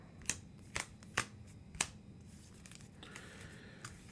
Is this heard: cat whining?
no